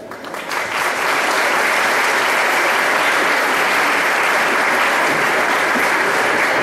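A school festival audience breaks into applause at a mothers' festival and royal court crowning, swelling within the first second into steady, loud, dense clapping that holds without a break.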